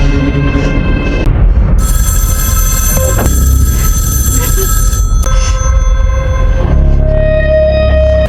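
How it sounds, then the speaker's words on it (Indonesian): A telephone rings insistently and continuously, its bright electronic tones layered over a dense, rumbling background that stays loud throughout. "mengangkat telepon yang terus berdering tanpa henti"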